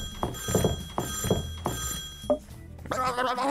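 A telephone rings in the video game Neighbours from Hell, sounding as three repeated ring bursts at a steady rhythm before a voice starts speaking.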